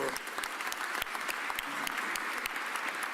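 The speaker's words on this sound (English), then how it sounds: "let's give our Mayor Sherelle Parker a real big round of applause" An audience applauds Philadelphia Mayor Cherelle Parker at an arena partnership announcement, with dense, continuous clapping from a large crowd and sharp individual claps standing out, steady throughout.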